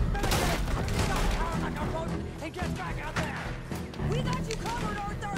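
Gunfire in Red Dead Redemption 2, a dense, continuous burst of shots and thuds running the whole time beneath a busy game soundtrack, with voices talking over it.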